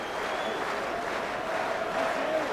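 A happy crowd at a boxing title fight applauds and murmurs in a sustained, fairly distant wash of noise after the bout.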